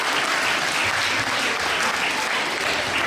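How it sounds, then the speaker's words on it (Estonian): A large audience applauds in a steady, dense burst of clapping that holds evenly from start to finish, loud and close with no speech over it. "terve see seltskond on ära teeninud iseendale ühe suure aplausi"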